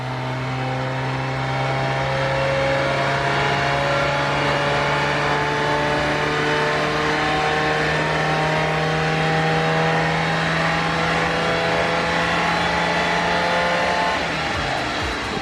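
Volkswagen Golf MK1 engine on a dyno, revving in one long sustained pull with a steadily climbing engine note, loud and close, before easing off near the end.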